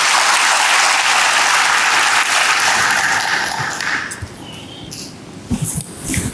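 A church congregation bursts into loud, dense applause that holds steady for several seconds, then thins into scattered claps and fades out.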